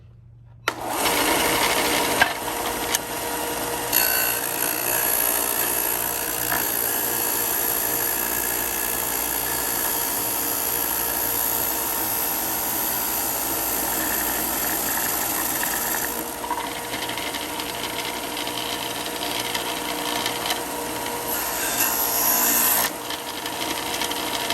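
A Bauer 4 in x 36 in belt and 6 in disc sander grinds a 30 degree bevel into wood using the miter attachment, a loud continuous abrasive whir and rasp that holds steady for over twenty seconds.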